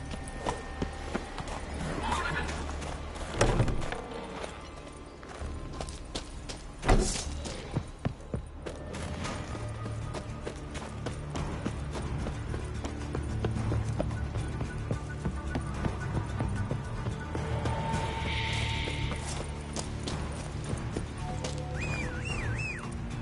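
Roach, the horse in The Witcher 3, gallops with a steady rhythmic clip-clop of hooves over game ambience, with occasional snorts and a neigh, plus scattered clattering and movement sounds across a long stretch.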